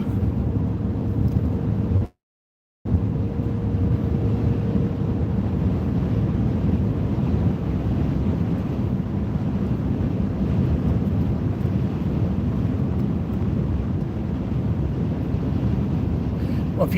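Strong wind on a road buffets the microphone in a constant low roar with a brief cutout near the start, and faint voices now and then under the gusts.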